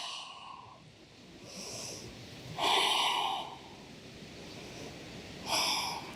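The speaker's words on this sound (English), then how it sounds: "Couple restorative breaths." Slow restorative breaths during a yoga session, three long deep exhalations, close and clear, separated by quiet pauses.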